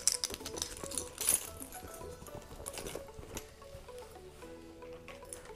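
Keys are handled and shaken, giving quiet metallic jingles and clinks in irregular bursts, with a brighter rattle near the start and softer rustling and tapping afterwards.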